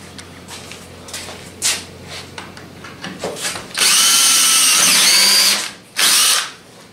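A power drill used while fitting AN fuel hose in place of a hard fuel line: a few short whirring bursts and faint clicks, then a longer loud close whine, a pause, and another brief burst.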